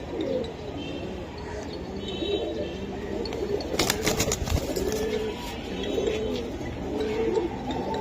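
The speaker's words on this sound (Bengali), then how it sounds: "বন্ধুরা এই তো কবুতর" Giribaz pigeons coo in a steady low murmur from several birds close by, broken by a brief burst of clinking and rustling near the middle, with faint voices in the background.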